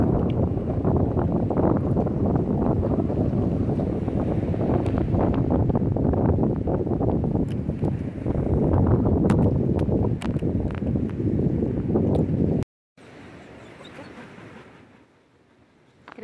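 Strong wind blows along a beach shore below a trail, roaring and buffeting close to the microphone almost continuously before dropping to a quieter gust near the end.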